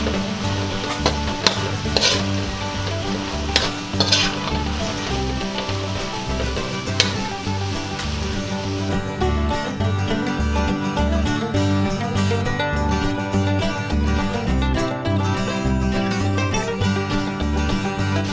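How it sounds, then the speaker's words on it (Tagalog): Coconut filling for pan de coco is stirred in a pan as it dries, making a continuous sizzle and scraping under repeating background music, with a few sharper clinks of the utensil against the pan. "Ngayon pong medyo tumuyo na yung ating sabaw ay hahaluin lang natin ng hahaluin."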